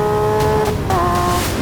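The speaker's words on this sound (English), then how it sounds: "The last free-breathing pure V12. And just listen to that noise!" A loud, continuous run from a Lamborghini Aventador's naturally aspirated 759-horsepower V12, with tonal engine notes that dip and then climb again in a brief rev across the whole clip.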